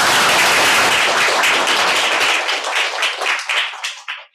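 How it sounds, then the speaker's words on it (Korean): A lecture audience at a Seoul National University classics talk on Malthus claps loudly and densely in thanks, the applause thinning into scattered individual claps before stopping. "박수로 감사합니다"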